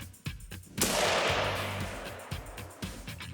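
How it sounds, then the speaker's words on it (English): A single loud rifle shot rings out at a moose while hunting on the prairie, a sharp crack followed by a long decaying echo, with faint handling noises before and after. "So Andrea pulled the trigger, you hear the shot."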